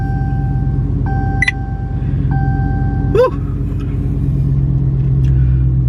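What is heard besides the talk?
Dodge Charger Scat Pack engine starting up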